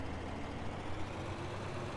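A tractor engine in the video game Farming Simulator 15 runs with revs raised, giving a faint, steady low drone throughout the short stretch.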